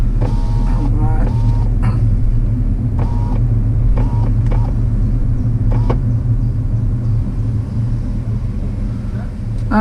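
A car drives slowly through a drive-through COVID testing site, its engine a loud steady low rumble inside the cabin, with brief clicks and mechanical whirs over it and occasional voices.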